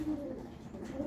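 A pigeon or dove coos softly and steadily at close range on a hot day, a low repeated murmur with no talk.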